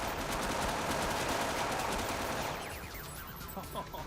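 Rapid automatic gunfire in an Xbox 360 shooter video game, a dense, fast rattle of shots that thins out toward the end, fairly quiet in the mix.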